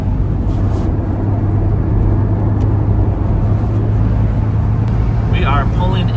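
A car cruises along the Chicago Skyline toll road into Chicago, giving a steady, loud road and tire roar over a constant low engine hum that holds unbroken throughout.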